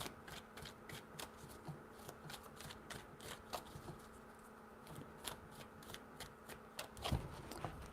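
Tarot cards are shuffled by hand in a steady run of quick papery riffles and snaps that continue for about eight seconds, close and fairly quiet, with no talking.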